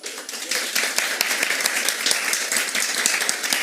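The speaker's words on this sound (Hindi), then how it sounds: "जोरदार तालियां बजाओ" An audience gives loud, dense applause to welcome someone on stage, continuous clapping throughout with no talk over it.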